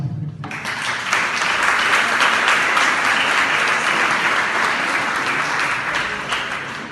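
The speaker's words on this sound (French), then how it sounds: "Je vous prie d'accueillir en applaudissement." An audience at an evening presentation of a solidarity economy project applauds to welcome the presenter. The dense, steady clapping begins abruptly and carries on evenly at full strength for several seconds.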